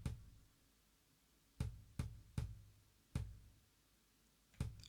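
Unprocessed heavy metal kick drum hits, six of them at uneven intervals, each a short, deep, close thump, sounding alone and fairly quiet.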